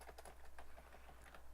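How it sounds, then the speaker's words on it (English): Quick, irregular keystrokes clatter on a computer keyboard while someone types code, faint and close, with a low steady hum underneath. "I just got used to just typing them"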